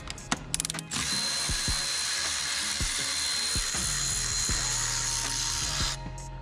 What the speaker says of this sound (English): You take a T30 and a wrench and pull the 3 bolts after you've pulled the intake off